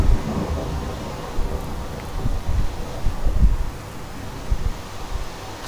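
Strong wind in the video game Minecraft during a tornado survival game, a loud continuous roar with low gusty rumbles that swell and fade throughout.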